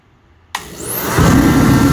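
A DeWalt 215,000 BTU jet heater fires up after a moment of near silence, bursting into a loud, close roar that swells and steadies into a continuous rushing blast.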